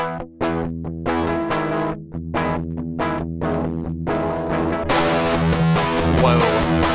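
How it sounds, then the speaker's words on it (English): Heavily distorted electric guitar plays chords in short bursts, with a brief pause early on, and the tone grows thicker and more saturated toward the end. "You can take your guitar from a really mild crunch to absolute insanity."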